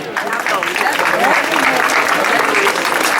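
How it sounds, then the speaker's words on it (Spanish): Warm, sustained applause from a crowd, steady clapping filling the space for the whole stretch with a few voices mixed in. "Fort de l'aplaudiment."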